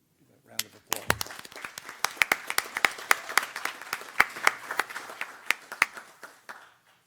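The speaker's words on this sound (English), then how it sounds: "Round of applause." A small group at a county school board meeting claps for a state champion team, sparse and uneven individual claps that stand out one by one for several seconds, fairly near and modest in volume.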